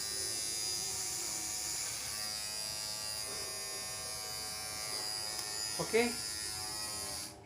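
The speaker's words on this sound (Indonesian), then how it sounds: "sekarang alat pencukur rambutnya kita coba ya" Electric hair clipper buzzing steadily and close for several seconds, a constant high whirring drone with a brief change near the end, while a person speaks briefly over it.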